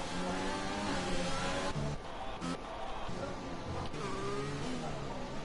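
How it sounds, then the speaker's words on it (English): A Renault Formula One car in a racing game screams past at high revs, its engine pitch climbing and then dropping through gear changes, with a commentator's voice running over it. "Justin in the Renault coming through to finish his lap."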